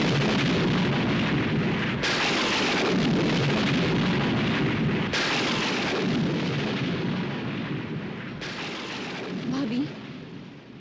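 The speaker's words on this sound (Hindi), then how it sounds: "लगता है तूफान आने वाला है" A thunderstorm rages with dense, steady rain and deep rumbling thunder, sharp loud cracks breaking in several times over the continuous downpour; voices talk over it at points.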